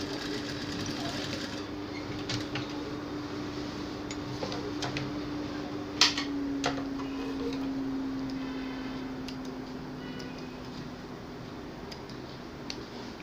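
A sewing machine stitches a pleat on an A-line gown, running in a steady low hum with quiet repetitive ticking throughout, moderately near and fairly faint.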